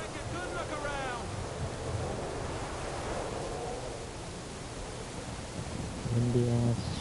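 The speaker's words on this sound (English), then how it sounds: "Windy ass shit, bro." Steady wind gusting across open ground in the Kingdom Come: Deliverance 2 video game, a constant roaring whoosh with no breaks, and a voice speaks briefly near the end.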